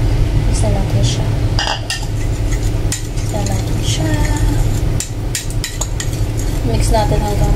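Ingredients are stirred in a metal pot with olive oil as they cook toward browning. Utensils clink and scrape against the pot over and over in an irregular rhythm, close and fairly loud, with a low background murmur.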